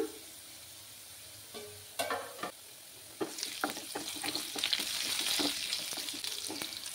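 Potatoes fry in hot oil in a home kitchen, giving a steady crackling sizzle that swells louder midway, broken by a few sharp clinks and stirring knocks.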